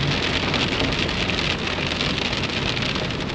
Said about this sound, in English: it's starting to rain harder now